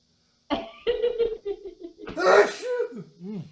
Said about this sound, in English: And so now I'm about to sneeze.